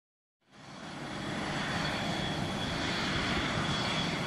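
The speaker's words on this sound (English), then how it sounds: "Fighter jet." A fighter jet engine swells up from silence into a continuous, powerful roar with a hissing high edge, growing steadily louder and staying sustained to the end.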